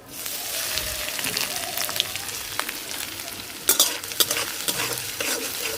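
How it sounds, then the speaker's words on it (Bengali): Peanuts and grated coconut fry in hot oil with a loud, steady sizzle, crackling like rain on a surface, while stirring adds sharper scrapes and spatters near the end. "তেল গরম হয়ে গেছে, দিয়ে দিতেছি বাদাম। বাদামের সাথে দিয়ে দিব নারকেল কোড়াটা"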